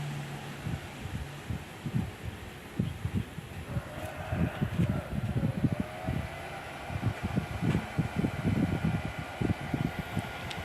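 A new cooling fan runs inside a repaired SUOER 1000VA grid-tie inverter, giving a close, steady low hum with irregular soft thumping and throbbing pulses throughout, and no talking.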